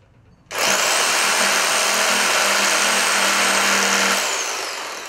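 A power saw spins up and bites into scrap pallet wood at the start of a cut. It is a loud, steady, whining roar that begins abruptly and holds for several seconds, then eases slightly toward the end, with no voices.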